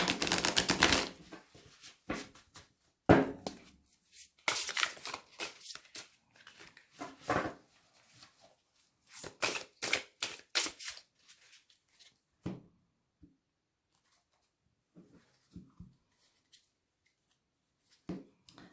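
Oracle cards shuffled by hand, a close, papery run of riffling and slapping in irregular bursts that thin out into sparse soft taps, with no voices.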